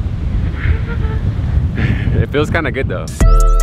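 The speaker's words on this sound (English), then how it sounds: "Oh, it's getting windy. It is windy." Wind blusters and rumbles against the microphone outdoors in Tokyo, Japan, while people talk nearby, ending with a loud low thump and a short musical jingle.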